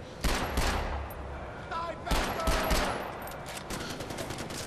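Gunfire in Far Cry 4 on PS4 during a snow mission: loud, rapid automatic bursts and fusillades crackle almost continuously, with brief dips between volleys.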